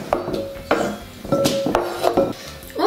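Cut tomatoes for a spicy tomato sauce go into a dish, giving a few close clinks and knocks against the dish that arrive in quick, uneven succession.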